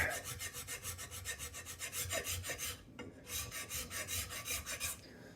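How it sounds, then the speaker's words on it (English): A metal file is draw-filed across a metal workpiece on a Brown & Sharpe bench center, giving a close, steady run of rhythmic rasping strokes with a brief pause midway, and no voices. "I'll try to do some couple of passes with a draw filing motion to flatten it out at the end."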